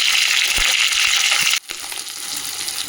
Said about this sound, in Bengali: মাছের মাথাগুলো এই মশলার সাথে ভেজে নেবো এপিট ওপিট করে।